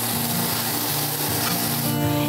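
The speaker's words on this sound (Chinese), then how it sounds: "还会有炒的这个声音" Onions sizzle steadily while being stir-fried in a pan, a constant close frying hiss with faint scraping from stirring.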